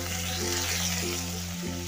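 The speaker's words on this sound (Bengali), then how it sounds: "এবার আমি তেলের মধ্যে মাছটা দিয়ে দেবো।" Rohu fish pieces go into hot oil and fry with a continuous crackling sizzle, close and steady, over a low hum in the kitchen.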